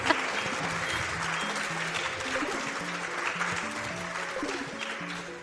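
A crowd applauds steadily at a live speedrunning charity event, with dense clapping that holds at one level throughout while background music plays under it.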